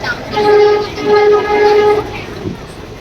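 A passenger train near Mysore sounds its horn in three sustained, loud tonal blasts, followed by quieter rail rumble.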